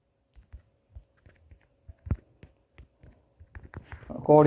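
Close, quiet keystrokes on a computer keyboard tap out entries in a Google Form, sparse single clicks with short pauses, before a voice starts speaking at the end.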